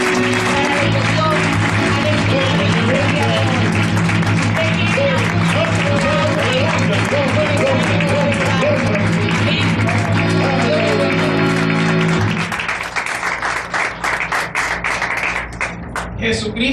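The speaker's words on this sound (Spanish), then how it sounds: "Vamos a recibir este poderoso ministerio con un fuerte aplauso." Loud, sustained applause from a church congregation welcoming an evangelical ministry fills the space over steady music, with a voice speaking throughout before the clapping thins near the end.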